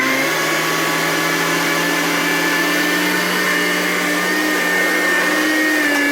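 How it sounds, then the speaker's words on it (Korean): A blender grinding pumpkin with a little water runs steadily and loudly at close range, a high whirring grind that holds an even pitch throughout, with no voices. "믹서기에 넣고 간 다음에 한 번 더 해줄게요"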